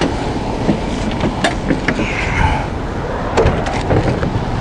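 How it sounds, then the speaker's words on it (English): Baggage or side doors on an MCI J4500 56-passenger ADA coach bus reach the top of their travel and lock with small, sharp clicks, heard up close among a steady background hum. "you can hear that little click there, and that locks them into place"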